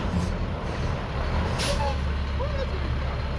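Heavy truck idling and creeping slowly through a cone course at a driving skills competition, a steady low engine rumble close by with a brief hiss of released air, faint voices in the background.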